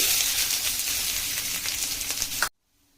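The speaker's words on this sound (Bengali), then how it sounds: "পেঁয়াজটা ভাজা হচ্ছে" Chopped onion fries in hot mustard oil with a loud, steady sizzle that cuts off abruptly near the end.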